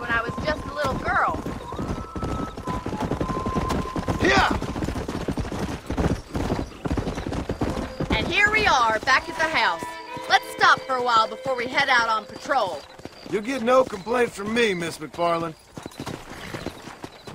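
A horse trots in Red Dead Redemption, with steady clip-clop hoofbeats throughout and an occasional snort, while characters talk over the ride.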